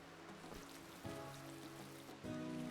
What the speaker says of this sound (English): oh, it's raining. That's good. That's real good for the stuff that's outside.